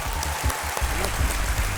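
A game show studio audience claps to welcome a contestant, a brief, steady burst of dense applause with no voices over it.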